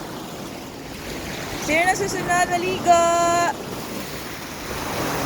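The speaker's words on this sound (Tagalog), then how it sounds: "Pero medyo malakas lang yung alon. Malakas lang yung alon ngayon." Strong sea waves roll at a beach, a steady rushing wash with wind buffeting the microphone throughout, while a person speaks briefly and something squeals in the foreground partway through.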